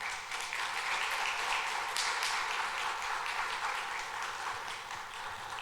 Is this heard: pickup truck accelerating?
no